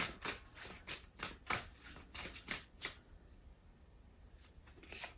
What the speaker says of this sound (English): I'm gonna start by picking two cards